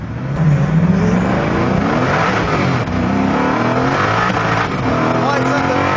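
A Koenigsegg with over 1000 horsepower accelerates hard in first gear with traction control off, its loud engine note rising steadily in pitch and roaring close by throughout, briefly breaking once or twice.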